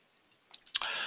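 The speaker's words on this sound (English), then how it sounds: "I just go here, click on pipes and click add." A few small, faint computer mouse clicks tick in quick succession, ending in a brighter click with a short rustling tail, in a quiet setting.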